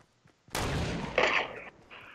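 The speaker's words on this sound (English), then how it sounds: "I don't know if I'm getting shot at or you're getting shot at" A single loud gunshot burst in Fortnite Battle Royale, breaking a near-silent moment, followed by a brief ringing tail and a second fainter crack as it fades.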